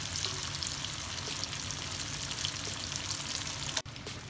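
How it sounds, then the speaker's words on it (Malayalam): Kingfish (ayakoora) fries in hot oil with a steady, dense crackling sizzle that runs throughout, broken by one brief clack near the end. "അപ്പോൾ നമ്മൾ മീൻ ഫ്രൈ ആയിട്ടുണ്ട്"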